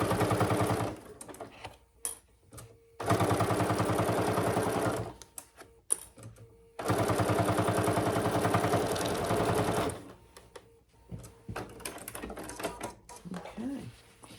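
A freshly oiled sewing machine with a big needle stitches a fabric basket in three long steady runs of rapid close mechanical clatter, separated by pauses with small clicks and handling noises.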